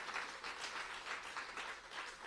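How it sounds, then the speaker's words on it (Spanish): A congregation applauds during a Spanish-language prayer service, a steady, dense patter of many hands clapping that swells in gentle waves across a couple of seconds, heard from within the room with no talking over it. "Denle el aplauso al Señor."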